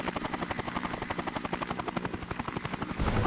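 Rotor thumping of a news helicopter in the video game Dead to Rights, a loud, steady rapid chop with engine whine, continuous and close, with no talking over it.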